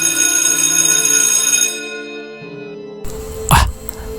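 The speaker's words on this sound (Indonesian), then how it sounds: "Tiba-tiba terdengar notifikasi berbunyi." A ride-hailing app order notification on a motorcycle taxi driver's phone at night, a loud bright ringing chime with sustained tonal layers that fade, followed by a brief throat clearing.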